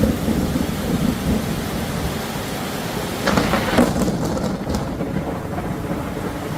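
Thunder rumbles through a heavy thunderstorm over constant close rain, with a louder crackling burst of thunder swelling midway and then fading back into the downpour.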